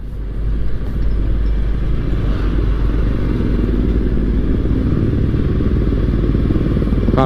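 A motorcycle on a touring ride gives off a steady, loud low engine rumble with some rattling clatter as it cruises along at an even pace, with no talking.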